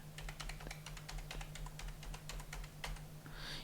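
Computer keyboard typing in quick, irregular bursts of close key clicks, entering an Aadhaar number into an online exam application form, over a steady low electrical hum.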